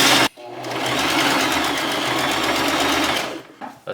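A sewing machine stitches the seam of a homemade Christmas hat, running steadily and loudly for about three seconds before stopping, with a brief start and a few faint clicks around it.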